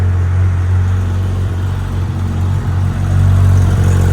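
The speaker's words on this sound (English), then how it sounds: "You hear the transmission working, this razzly noise. That's the transmission, the manual transmission." A Porsche 997.1 GT3 with a manual transmission makes a loud, steady low drone with a raspy gearbox rattle running through it, holding even throughout with no talking.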